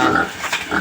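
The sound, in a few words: pig grunting in its pen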